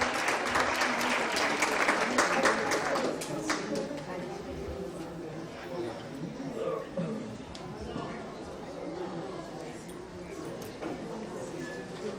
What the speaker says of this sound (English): let's give a round of applause to our amazing State Rep, Ron Reynolds.